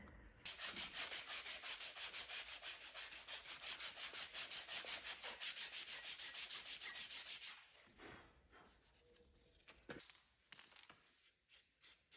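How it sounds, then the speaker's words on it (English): A wire brush scrubs burnt paint off a welded centrifugal slurry pump part in fast, rhythmic strokes, loud and close, then gives way to a few lighter scrapes and taps. "the paint that burnt off when I welded it, I'll just give that a bit of a wire brush"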